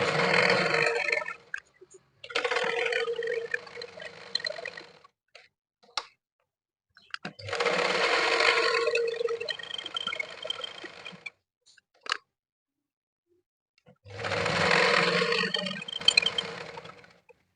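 Sewing machine stitching a blouse's lining and main cloth together, running in three bursts of several seconds each, with quiet pauses between runs and no talk.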